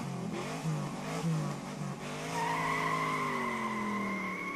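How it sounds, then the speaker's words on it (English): A video game car speeds off with a shrill, rising engine whine that climbs steadily in pitch for a couple of seconds, loud and alone, following some softer tonal sound at the start. "speeds off in a shrill burst of sound pollution and actual pollution"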